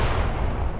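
Incendiary artillery rounds fired in the WWII tactics game Graviteam Tactics: Mius Front, a dense, continuous low rumble of a heavy barrage, loud and steady throughout with no clear gaps between impacts.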